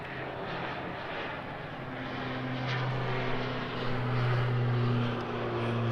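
A Pilatus PC-12NG turboprop taking off at an airport at sunrise, giving a steady, fairly distant engine drone with a low tonal hum that swells slightly toward the end.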